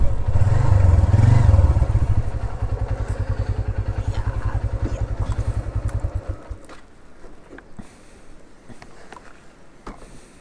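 A Honda CB150F motorcycle engine idles nearby with a fast, even thumping pulse that loudens briefly, then cuts off, leaving faint clicks and ambient noise.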